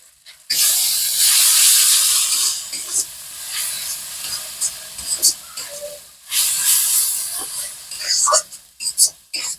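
Ginger-garlic paste hits a pan of fried onions with a sudden loud hiss and sizzle that fades in waves, stirred with scraping taps, then flares again midway before settling into intermittent crackles.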